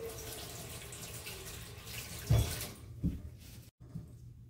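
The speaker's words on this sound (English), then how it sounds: "Let me rinse my hands off really quick." Tap water runs steadily into a kitchen sink while hands are rinsed, a continuous close splashing hiss with a couple of heavier splats before the flow cuts off abruptly near the end.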